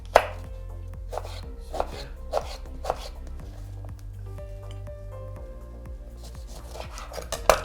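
Pear and apple pieces are chopped for a fruit cream, a knife striking the board in a slow, regular series of close crisp chops over a quiet low hum, with no talk.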